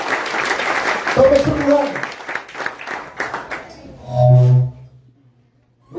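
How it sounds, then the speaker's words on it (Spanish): A Spanish-speaking church congregation claps during a service, a ragged burst of applause beneath a preacher's amplified voice that fades out, followed by a short sustained tone. "Den un fuerte aplauso al Señor."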